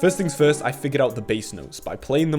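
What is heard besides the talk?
None of the usual background noises is heard.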